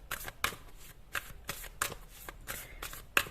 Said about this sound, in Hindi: तो यहां से ही मैं 3 कार्ड्स निकाल रही हूं आपके